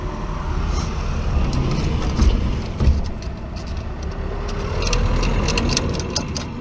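Continuous road traffic rumbles in the background, a steady wash of passing vehicles with faint metallic clinks on top.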